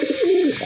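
A single pigeon gives one soft, low, rolling coo, close and clear, lasting under a second.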